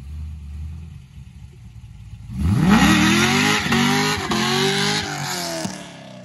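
A Chevy LS3-powered car revs hard during street racing. After a quieter idle, the engine note suddenly swells into a loud, close, rising roar with gear-like surges and holds high to the end. No one speaks.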